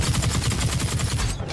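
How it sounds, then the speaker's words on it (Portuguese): Machine gun firing in the video game The Cycle, a rapid sustained burst of loud automatic shots in steady rhythm, cutting off abruptly near the end. "Ela é uma metralhadora que dá 80 tiros e ela é bem bacana, ó."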